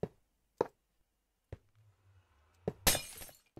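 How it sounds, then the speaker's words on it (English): Blocks of glass break in the Minecraft video game, a series of sharp separate cracks spaced apart, ending in a louder, longer shattering burst, with a low hum underneath. "Why does the broken glass sound so terrifying to me?"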